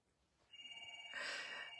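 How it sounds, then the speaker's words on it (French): An indoor telephone starts ringing with a bright electronic tone that grows louder partway through, heard alone and at close range. "meilleur moment pour le téléphone sonne"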